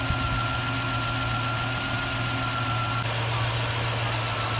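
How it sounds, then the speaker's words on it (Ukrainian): A Toyota Land Cruiser 100 V8 engine idles steadily with a low, even hum and a faint whine, unchanging and close by. "Мотор спить, тобто він працює і спить."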